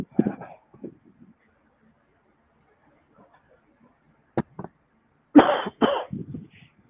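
A man coughs several times in a quiet room, short harsh bursts spread over a few seconds, with a throat-clearing sound and a couple of sharp clicks between them.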